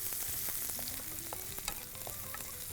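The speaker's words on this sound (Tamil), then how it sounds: "வெங்காயம், இதை வதக்குறோம். பச்சை மிளகா வதக்கிறோம்" Onion and green chillies sautéing in a hot pan, a steady close sizzle with scraping stirs and small clinks over it, no talk.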